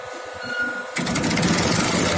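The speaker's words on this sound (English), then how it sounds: "Now the motor starts rotating." A diesel injection pump test bench motor starts up, shifting from a quiet hum to a steady, loud whirring run with a dense mechanical buzz that fills the rest of the moment.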